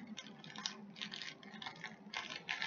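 A plastic zip-lock bag holding breaded chicken being pressed shut, giving faint, close crinkly rasps and ticking bursts in a quiet room.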